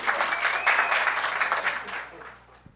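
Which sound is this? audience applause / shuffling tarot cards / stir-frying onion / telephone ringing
audience applause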